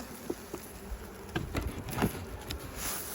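Honey bees from a strong spring colony buzz around an open hive, a faint steady drone with soft clicks and knocks of hive handling scattered through it.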